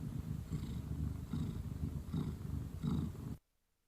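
A docile cat purrs close to the microphone, a soft rhythmic rumble pulsing in even cycles about once every 0.8 seconds before cutting off abruptly near the end.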